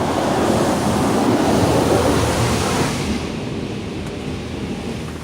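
A PDQ LaserWash 360 touchless car wash sprays its spot-free rinse at a BP gas station, a dense, steady hiss of water jets close by that eases off slightly toward the end.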